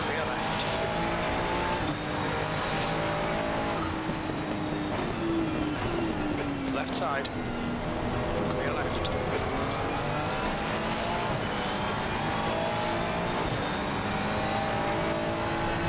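Cars launching at the start of an Assetto Corsa Competizione GT3 race at Watkins Glen, with a Porsche and a Mercedes among them: layered engine drones rising in pitch as the pack accelerates together, steady and close, with a voice talking over it.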